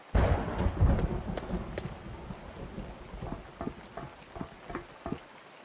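Rain falling outdoors in a thunderstorm, a low rumble of thunder at the start fading into steady pattering drops and splashes on surfaces, no voices.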